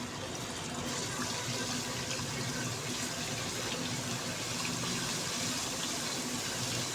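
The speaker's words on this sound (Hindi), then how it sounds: "ये देखिए लहसुन हमारा जो है फ्राई होना शुरू हो चुका है।" Garlic-ginger paste, about a spoonful, frying in a pan for an aloo baingan curry, giving a steady, close, loud hiss and crackle that holds evenly throughout with no talking.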